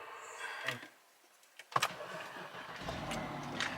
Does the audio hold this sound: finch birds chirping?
no